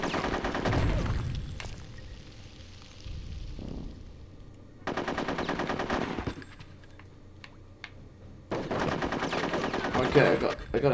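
Video game gunfire in a World War Squirrels battle from Conker's Bad Fur Day: loud, rapid machine-gun bursts in several long volleys, separated by quieter stretches with scattered single shots.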